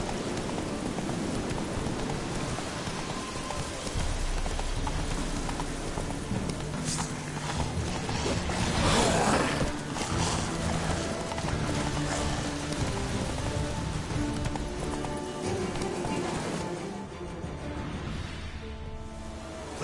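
Geralt's horse Roach trots through The Witcher 3 in a steady clip-clop of hooves, set against a dense bed of game ambience that sounds like rain and background noise through most of the stretch.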